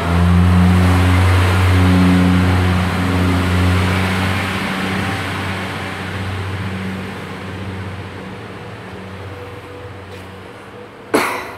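A Class 142 diesel train, unit 142077, pulls away from Bridgend on a service to Carmarthen. Its engine gives a loud, steady low drone that eases back as it leaves, and a sharp bang comes near the end.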